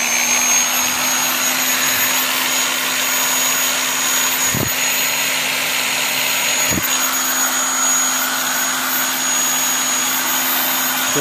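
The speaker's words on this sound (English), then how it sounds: "once I power this drill right here" A 1200 watt electric drill runs continuously with a steady high whine and motor hum, loud and unbroken for the whole stretch, with two faint clicks partway through and no talking.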